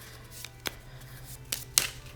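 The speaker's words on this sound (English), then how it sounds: "So I'm gonna shuffle." Faint, sparse snaps and riffles of Lenormand cards being shuffled by hand, a few quick separated bursts against a quiet room.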